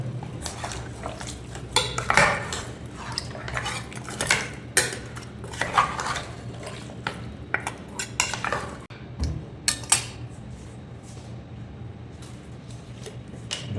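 A metal spoon stirs and scrapes inside a pot of goat trotter paya after water is added, with repeated irregular clinks and knocks, some sharp and loud, spread over several seconds.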